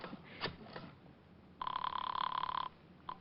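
An old-fashioned telephone bell rings in a vintage detective radio drama, one sustained ring of about a second after some soft rustling, then a brief second burst.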